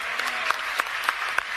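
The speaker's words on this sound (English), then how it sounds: "Big round of applause" Clapping from an audience at a Detroit church event for Trump, a steady patter of hands with a few sharper claps standing out, moderately close and continuous throughout.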